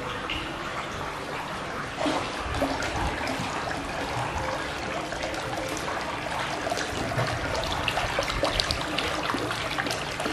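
Water splashes and trickles steadily as a koi is released back into a garden pond, a continuous close pouring sound with small irregular splashes and a brief louder surge partway through.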